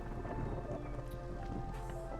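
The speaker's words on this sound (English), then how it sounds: "Storm's arriving." A storm in the video game Against the Storm brings steady, dense rain and a low rumble of thunder, forming an even wash of sound with no talking.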